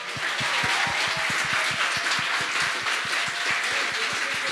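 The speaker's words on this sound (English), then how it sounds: "Big applause" Audience applause for the volunteers at a closing ceremony of a hackathon, steady close claps in a fast rhythm over a sustained crowd wash, with little talk.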